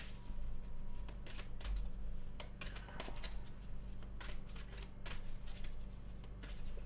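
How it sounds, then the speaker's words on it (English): Tarot cards shuffled by hand in a steady, close series of riffling and sliding bursts with brief pauses, no talking over it. "Give them a shuffle and just ask, what guidance do we have today?"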